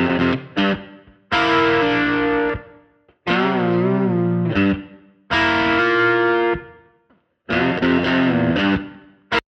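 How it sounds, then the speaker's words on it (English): Two identical distorted rhythm electric guitars, bridge pickup through a Line 6 Helix preset, play loud chugging chord phrases in bursts separated by abrupt stops, the doubled parts sometimes in unison and sometimes in harmony. "So I bring in two rhythm guitar parts that are exactly the same tone."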